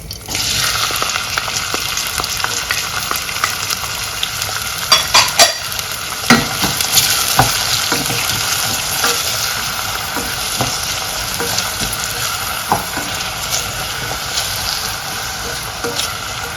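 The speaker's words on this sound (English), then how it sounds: "I'll put my coconut oil and I'll add in my chopped onions." Chopped onions fry in hot coconut oil, a steady loud sizzle lasting throughout, with scattered clicks and scrapes of stirring standing out around the middle.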